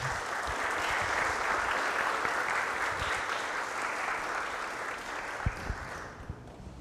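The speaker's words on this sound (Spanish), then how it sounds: "Un aplauso" Audience applause at the end of a talk at a tech event, a broad, even wash of many people clapping that holds steady and then thins out, leaving a few scattered claps at the close.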